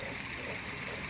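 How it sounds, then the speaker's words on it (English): Floodwater after a downpour flows through a normally dry backyard, a steady rushing, trickling wash of water heard alone at a low level. "backyard is flooded. So this is normally dry, but right now it's flooded."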